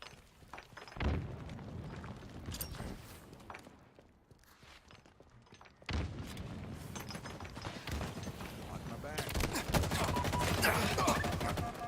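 Halo Infinite multiplayer combat with bursts of gunfire, a thrown grenade and booming impacts, punctuated by shots and footsteps, growing denser and louder toward the end.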